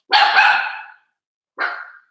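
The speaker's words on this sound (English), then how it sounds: "wife bought 3 dogs." A dog gives two sharp barks close by, one longer and one shorter after a brief pause, with no other sound around them.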